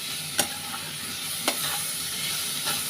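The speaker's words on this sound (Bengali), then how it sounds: "তো শাক ভাজাটা আরও একটু হবে, অনেকটাই হবে আরও" Leafy greens (shak) frying and being stirred in a pan, with a steady close sizzle and a few sharp scrapes of the spatula at irregular moments, no voices.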